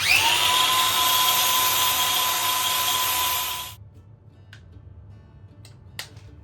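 A motorized power brush scrubs plating off a metal part for welding, a steady loud whir that cuts out abruptly, followed by near silence and a few faint ticks.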